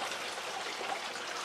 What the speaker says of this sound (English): I have an outlet valve here to where I can open it up and it'll actually run the water out from the system.